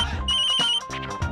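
A telephone ringing with a call from the Canadian embassy, a short bright electronic ringtone trilling in quick repeated pulses, close and clear.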